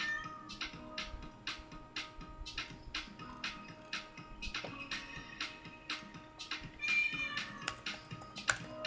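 A cat meows repeatedly in short, insistent calls with a few ticking taps in between, close by outdoors around feeding time.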